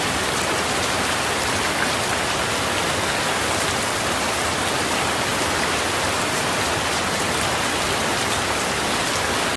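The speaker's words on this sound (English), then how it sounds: "So for the next 10 seconds, you guys are going to listen to rain as well." Steady, dense rainfall hisses evenly and loudly the whole time, with no voices or other sounds.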